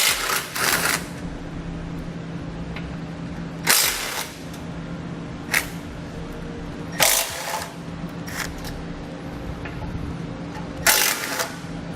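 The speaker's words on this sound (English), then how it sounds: "I'm going to be using a 12mm socket to take them out." A ratchet on a 12mm socket removes bumper bolts on a 2015 Kia Soul, giving several short bursts of quick clicking spaced a few seconds apart over a steady low background hum.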